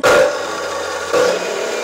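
Cutoff machine with a fitted blade switched on for welding work, giving a loud steady whine with a bright tonal edge, a brief rise near the start and a second surge partway through, with no talk.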